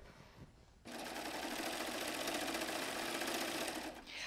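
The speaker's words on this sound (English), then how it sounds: "The wave stitch goes back and forth and it creates a beautiful wave on the edge of the fabric using two different threads." A Baby Lock serger sewing a wave stitch along a fabric edge with two threads, a loud steady mechanical whir starting abruptly after a quiet moment and running evenly to the end.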